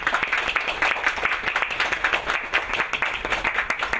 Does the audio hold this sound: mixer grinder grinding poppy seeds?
no